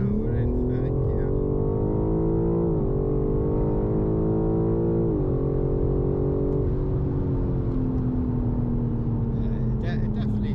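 BMW M4 G82 heard from the cabin accelerating in third gear, its engine note climbing steadily under continuous road noise, with a slight dip where the revs shift.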